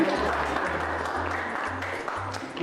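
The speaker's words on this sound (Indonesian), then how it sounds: "kita berikan tepuk tangan untuk kami" Classroom applause at an Indonesian-language lesson at SMAN 1 Jenangan: steady, dense clapping for the full clip, with a low, pulsing hum running beneath it.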